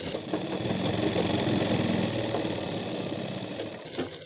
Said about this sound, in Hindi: और सीधी सिलाई लगा सकते हो।